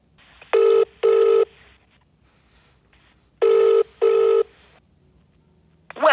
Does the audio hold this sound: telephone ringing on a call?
yes